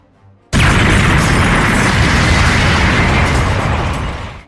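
A sudden, loud explosion bursts in after a brief quiet moment, then a dense roaring rumble holds for about four seconds before slowly fading.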